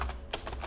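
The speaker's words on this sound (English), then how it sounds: "let me type" Keys clack on a computer keyboard while an optin page headline is edited, a few quick taps in short bursts, close and fairly quiet.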